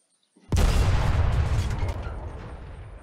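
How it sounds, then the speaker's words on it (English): A single loud tank cannon blast in the video game Unturned erupts after a brief quiet, followed by a long rumbling decay that fades over a couple of seconds. "So let's try the cannon out."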